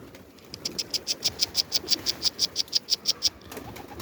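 Mardin pigeons calling in a steady run of about fifteen evenly spaced coos, fairly close, over soft rustling and faint low background noise, with no talking.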